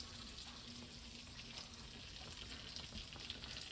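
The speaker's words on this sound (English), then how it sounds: "So first thing we're going to do is put these apples into this butter for a few minutes." Apple slices, unpeeled, frying in butter in a wok, giving a quiet, steady sizzle with faint crackles throughout and no talking.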